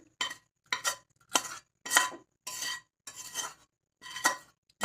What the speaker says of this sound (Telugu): ఇప్పుడు మనం వేయించి పెట్టుకున్న ఉల్లిపాయలు అందులో వేసి బాగా కలుపుకుందాం